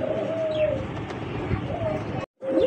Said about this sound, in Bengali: কি সুন্দর এক জোড়া কবুতর দেখতে পাচ্ছেন